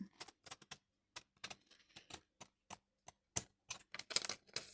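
Sharp, irregular clicks and snips of material being cut straight, short bursts separated by brief silences, close and fairly quiet.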